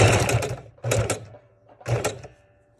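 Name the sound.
sewing machine stitching a fabric and file folder journal cover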